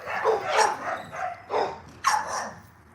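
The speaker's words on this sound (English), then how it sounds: "Good animal. Good dog." A dog barks several times in a short, uneven series of sharp yips and barks, fairly close and loud, with no one talking over it.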